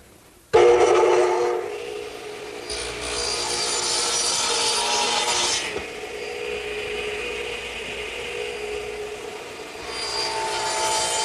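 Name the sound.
radial arm saw cutting wooden siding boards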